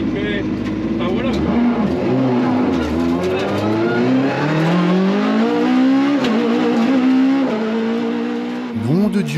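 A Citroën C2 VTS engine revs hard on a track, its pitch climbing in repeated sweeps through the gears. The sound is loud and close, with a brief drop near the end.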